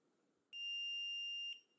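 A single clear electronic beep from a Kwikset SmartCode 910 smart lock keypad, a steady high-pitched tone lasting about one second, sounds close by against near silence.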